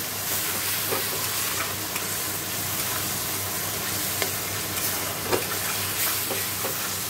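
Spice paste for egg curry fries in a pan with steady broadband sizzling and occasional scraping stirs, continuous and close throughout with no voices.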